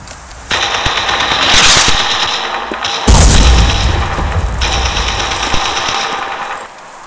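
Heavy artillery and gunfire boom loudly and close, with sustained rattling fire and a sharp blast midway that drops into a low rumble, and no voices.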